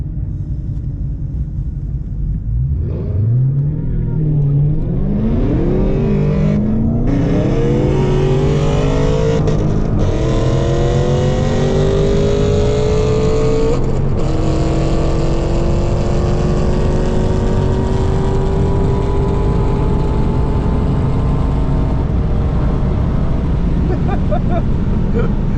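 An 800-horsepower Dodge Challenger SRT Hellcat Redeye makes a half-mile racing run from inside the car, its supercharged engine roaring loud and close as it climbs through several gear changes and holds a high, sustained drone to the end.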